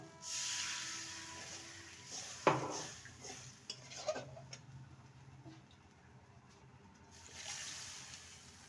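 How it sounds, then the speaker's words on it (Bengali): Faint clinks of a spoon against a pan while chilli cauliflower curry with soy sauce is stirred, followed by a hissing pour of water into the hot pan, soft and close. "ভালো করে নেড়ে নেব এবারে দিয়ে দেবো পরিমাণ মতো জল"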